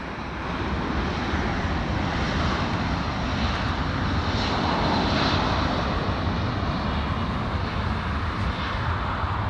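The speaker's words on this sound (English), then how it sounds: "There goes the liftoff" A Condor airliner takes off from runway 24 left at LAX, its jet engines rising into a loud, sustained roar that holds steady and near for the whole stretch.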